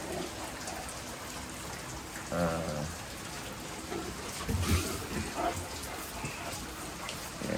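Rain falls steadily outdoors in Thailand, a constant patter on surfaces with a few louder knocks and drips, and no voices.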